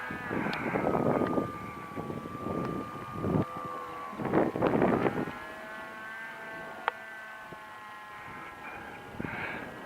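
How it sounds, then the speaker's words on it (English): Versa Wing model aircraft making a close flyby, its steady high motor whine shifting in pitch as it passes, with gusty wind buffeting the microphone throughout. "How about a close flyby for the viewers to enjoy?"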